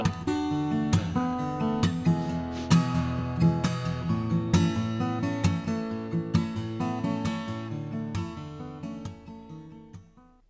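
Fingerpicked acoustic guitar playing a song, a steady run of plucked notes and ringing chords alone with no voices, holding a fairly even level before fading out at the end.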